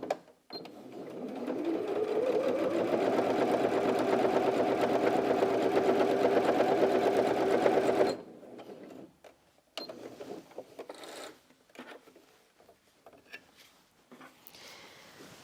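A Janome 360DC sewing machine runs steadily for about eight seconds, stitching through four folded layers of fabric with a loud, even motor whir, then stops, leaving faint handling sounds and quiet shuffling.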